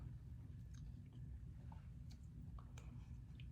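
Someone chewing taco salad up close, soft wet mouth sounds with a few faint crunches over a low background hum.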